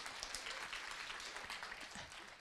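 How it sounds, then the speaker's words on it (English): An audience breaks into steady applause, dense and even clapping filling the room without a pause for a couple of seconds. "If you don't know them, go ahead and clap."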